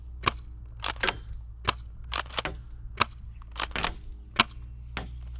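An airsoft shotgun fires BBs in a series of sharp, snappy pops at irregular intervals, each one close and crisp, with faint handling clicks between the shots and no talk.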